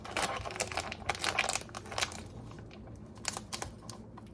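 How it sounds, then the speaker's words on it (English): Crinkling plastic food packaging handled up close, bursts of crackling and rustling with short pauses between, no speech. "Now we're gonna take them out the package."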